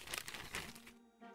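A bead supply package of jewelry-making materials is torn open, giving close, quiet crinkling and crackling of packaging in short bursts, then a brief lull.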